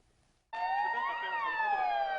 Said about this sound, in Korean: 급히 소방차가 출동했지만 좁은 골목에 불법 주정차된 SUV 탓에 더 이상 진입을 할 수 없습니다.